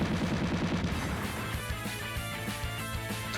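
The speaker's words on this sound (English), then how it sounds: "we just need to shoot it a lot" Rapid, repeated gunfire from a weapon being shot in a video game, a dense burst of steady shots layered over loud, driving game music.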